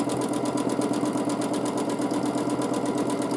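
A sewing machine hums and rattles steadily up close during free motion quilting of wavy lines, its needle beating in a fast, unbroken rhythm with no voices over it.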